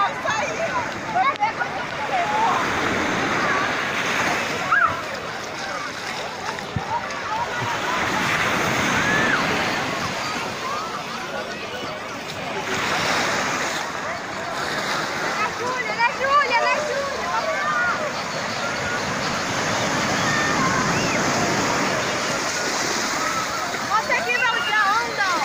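Cachoeira da Penha waterfall in Paraty, Brazil, roars steadily nearby, heard from a bridge, a broad wash of churning water that swells and dips, with wind buffeting and people talking over it.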